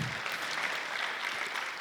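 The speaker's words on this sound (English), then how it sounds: "And that's worth a round of applause," An audience at a symphony orchestra concert gives a round of applause, an even wash of clapping heard from a distance and sustained without breaks.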